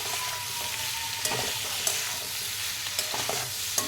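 Chili chicken with onion and capsicum being stirred in a frying pan, a steady sizzle with scraping strokes of a spatula recurring every second or so, close and alone.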